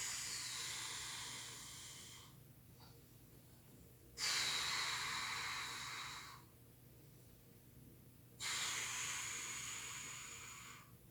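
Three long, deep exhalations come during a stretching routine, each a soft, airy hiss lasting about two seconds and separated by quiet pauses, close to the microphone.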